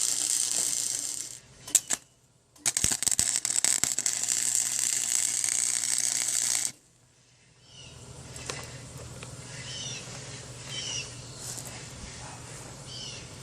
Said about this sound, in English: But let's get this thing welded on here.